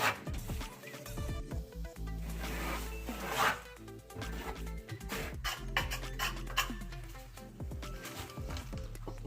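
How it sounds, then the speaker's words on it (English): A trowel spreads tile mastic across a kitchen backsplash wall, giving continuous soft scraping and rubbing strokes with small metallic clinks, faint and close, with no voices. "let's spread the mastic evenly"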